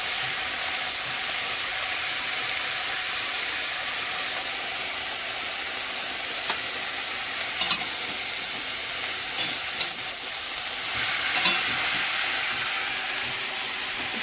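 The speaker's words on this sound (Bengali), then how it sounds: "চিংড়ি মাছটা ভাজা হচ্ছে।" Shrimp seasoned with salt and turmeric frying in a pan, a steady loud sizzle and hiss that continues throughout with a few brief pops and spatters and a slight swell near the end.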